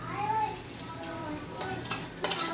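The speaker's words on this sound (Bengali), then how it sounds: "চালটাকে এবার দিয়ে কিছুক্ষণ আমি ভাজবো চালটা, তাহলে কি ঘিয়ের সাথে চালটা বেশ ভালো করে ভাজা হয়ে যাবে" Rice fries in ghee with whole spices, a low continuous sizzle with occasional stirring scrapes, close and moderately quiet, with faint background voices.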